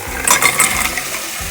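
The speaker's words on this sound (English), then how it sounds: "then add the clams" Clams clatter into a cooking pot, a quick run of hard shells clinking and rattling against metal and each other, close and fairly loud, settling within a second or so.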